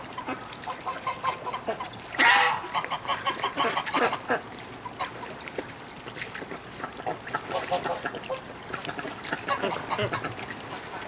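Muscovy duck calling outdoors in winter near a muddy puddle, a series of irregular clucking, quacking calls close by, some louder bursts, with faint talk between.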